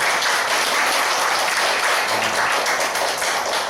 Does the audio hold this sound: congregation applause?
yes